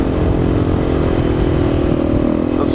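A supermoto motorcycle engine roars loud and close at steady high revs, holding a rough, buzzing drone with little variation during wheelie riding.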